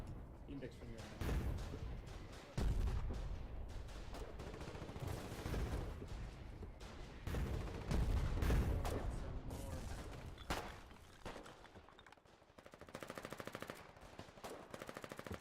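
Rapid submachine gun bursts crackle in a video game, dense rattling volleys that repeat almost without pause alongside heavier gunfire, while people talk over the shooting.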